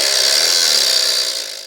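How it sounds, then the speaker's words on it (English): A Dremel rotary tool makes a cut through OO gauge model railway track, giving a short, bright, steady whine that fades as the cut finishes. No voices. "So you want to hold the Dremel tool as level as possible. And we're just going to make our cuts."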